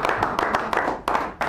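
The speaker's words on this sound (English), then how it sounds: "With a nice round of applause," Applause from a small café audience at a San Francisco poetry reading, steady clapping with a few sharp louder bursts across a short stretch.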